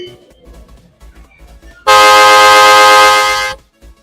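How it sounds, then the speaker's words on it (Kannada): A PRM trumpet horn made for two- and four-wheelers sounds one loud, sustained, brassy blast of about a second and a half. It cuts in sharply over a quiet room background and then stops. "ಇದು ಟ್ರಂಪೆಟ್ ಹಾರನ್ನು 2 ವೀಲರ್ಗೆ ಮತ್ತೆ 4 ವೀಲರ್ಗೆ ಎರಡೂ ಆಗುತ್ತೆ"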